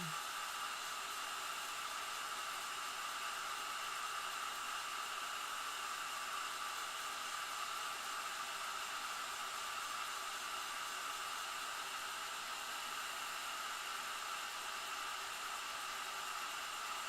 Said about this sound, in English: I'll be waking up the neighbors with the sound of the hairdryer.